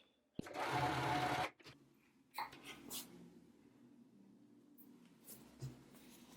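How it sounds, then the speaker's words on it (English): A sewing machine stitches a seam in one loud, steady burst of about a second, then stops, followed by quieter handling noises and faint rustling. "once you're ready, let's just get sewing. You should follow the stitch"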